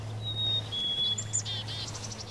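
Birds chirp and sing in a spring garden beside a running fountain, with clear, fairly close calls and a rising series of short tweets over a low steady hum.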